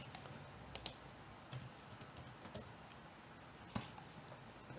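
Faint, irregular keystrokes tap on a computer keyboard, a few sharper clicks standing out against a quiet background.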